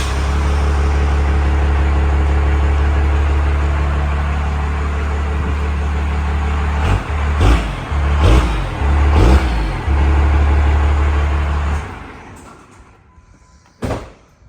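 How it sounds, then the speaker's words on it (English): Second-gen Dodge pickup with a 12-valve Cummins diesel on stock exhaust, loud steady idle rumble broken by a few sharp revs, then the engine shuts off into quiet with one last short thump. "we're going to do a start up here with the stock exhaust"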